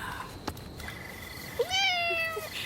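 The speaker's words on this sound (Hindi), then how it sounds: "हाँ, दूसरी बिल्ली।" A cat meows once, a clear rising-then-falling cry that stands out over a quiet indoor room tone, with faint village household sounds around it.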